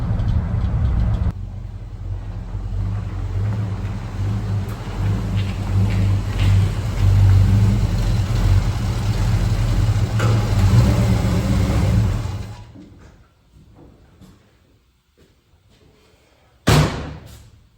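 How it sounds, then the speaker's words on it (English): A classic car drives along with a loud, steady engine drone and road roar for about twelve seconds, then the noise falls away to near quiet before a sudden sharp thump near the end. "I'm gonna put a few miles on this thing"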